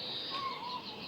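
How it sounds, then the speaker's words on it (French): Birds sing in the countryside, a few faint whistling, cooing calls drifting over a soft, hissy outdoor background with no talking. "Vous entendez bien le chant des oiseaux."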